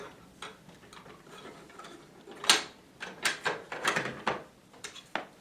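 Mantel cabinet doors drop into place during a hidden-wire mantel installation, giving a series of sharp wooden clacks and knocks, several in quick succession, close and fairly loud with no talking.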